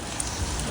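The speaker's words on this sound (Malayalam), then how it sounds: "അടിപൊളി മഴ" Steady rain falling outdoors near a church in Bethlehem, a dense even hiss of drops with no breaks and no voices.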